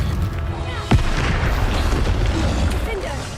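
A Bombarda spell explosion in Hogwarts Legacy, a single sharp blast near the one-second mark followed by a rumbling tail over steady background game noise.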